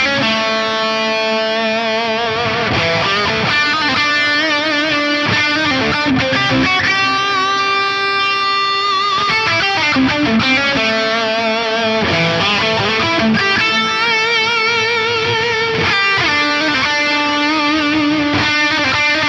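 An electric guitar plays through a Fractal AM4 on the Euro Blue amp model with delay and reverb, sounding distorted and sustained, with chords and single-note lines ringing out into echoing trails.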